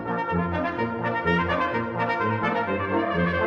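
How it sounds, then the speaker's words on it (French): A brass quintet plays together in harmony, sustained low and mid notes moving in a steady, full-bodied chordal passage with no talking. "c'est un quintet de cuivre."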